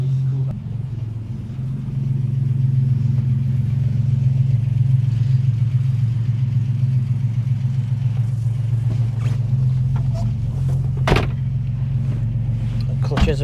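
A classic Ford Capri engine runs steadily while driving up a private road, giving a close, continuous low rumble with a few faint clunks and rattles over it.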